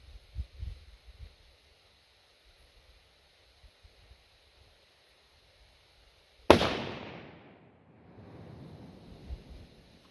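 A single sharp rifle shot firing match ammunition cracks loudly after a quiet stretch, followed by a long fading echo rolling away outdoors.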